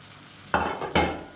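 Green chillies, mint and coriander are sautéed in a pan for mushroom pulao. Two quick stirring bursts bring brief sizzles after a near-silent start.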